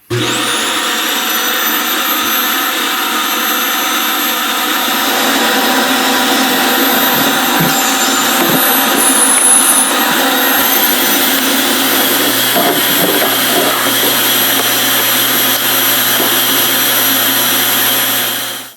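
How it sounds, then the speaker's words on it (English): A vacuum cleaner roars loudly and steadily while cleaning refrigerator coils, a constant high whine over a rushing airflow, with occasional faint rattles of debris. "turn it on, and try to vacuum as much of this debris as you can."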